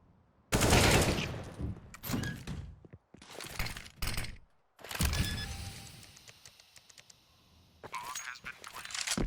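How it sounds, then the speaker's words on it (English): Gunfire and a flashbang explosion sound in a Counter-Strike-style tactical shooter, with loud, sharp bursts of shots and blasts separated by brief silences, and a voice talking between them. "This flashbang explosion that you just heard gives away the CT's positioning"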